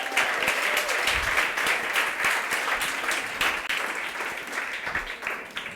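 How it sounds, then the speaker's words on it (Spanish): A church congregation claps together in a sustained round of applause, a dense, fairly loud wash of hand claps that wavers slightly and starts to taper near the end. "Démosle un aplauso al Señor."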